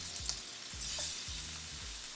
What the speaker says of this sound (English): We're gonna add our shrimp to the hot pan.